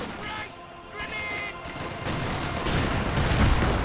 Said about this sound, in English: MG34 firing away